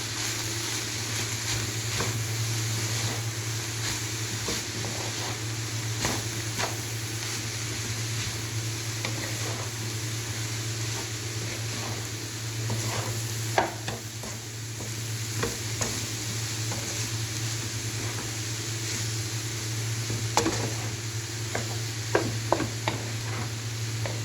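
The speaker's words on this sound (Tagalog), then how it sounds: "mix na natin siya ulit" Carrots are stirred into chicken sambosa filling in a pan: a continuous loud sizzle with repeated scraping strokes of the stirring utensil, no voices.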